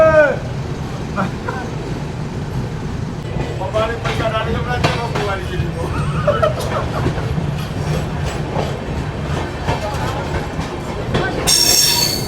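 Patna Udaipur Humsafar Express pulls out of a small two-platform station in the evening, with a steady low rumble, clattering wheels and occasional wheel squeal under people talking nearby.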